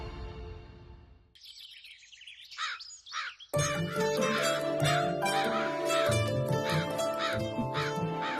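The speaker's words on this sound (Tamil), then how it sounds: "ரொம்ப நேரமா காக்கா கத்திக்கிட்டே இருக்கு" Crows caw repeatedly in a domestic setting, several harsh calls standing out before a busy stretch where they continue under other household sounds and voices.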